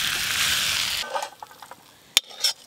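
Fried spices for a jackfruit and goat-fat dish are tipped out of a hot pan, a loud sizzle for about a second, then scattered light scrapes and two sharp clinks.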